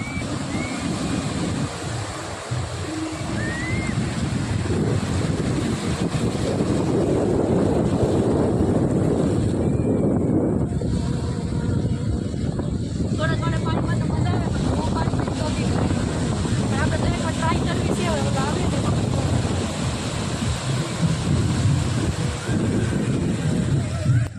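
Sea water washes and waves roll at the shore beside a fair near Unchakotda, with continuous wind buffeting the microphone and faint voices in the background.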